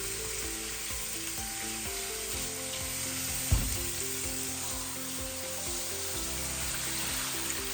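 Chicken karahi frying in olive oil sends up a loud, steady sizzle that runs the whole time, with a single sharp thump from stirring near the middle and no talking.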